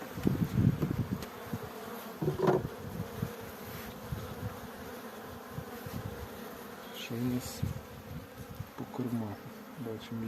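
Bees swarm with a dense, continuous buzz inside an opened beehive during an inspection, with occasional knocks and handling noises from the frames close by.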